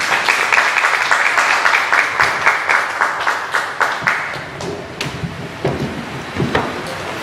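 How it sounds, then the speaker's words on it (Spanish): Applause from an audience at a poetry festival in Montevideo, Uruguay, heard as a burst of clapping that thins into scattered, uneven claps. "Un aplauso para Liliana Mar."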